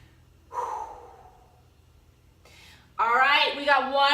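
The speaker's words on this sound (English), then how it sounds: "couple deep breaths just to stretch and slow down that breathing" Heavy, deep breathing after a shoulder workout: a loud exhale, a pause, a second breath, then a voiced, strained outbreath, close and otherwise quiet.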